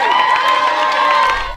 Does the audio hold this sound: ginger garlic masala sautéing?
no